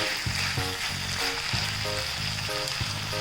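Fruit peel stir-fry sizzles in a pan on a gas stove, a steady close hiss running under background music with a repeating melodic pattern.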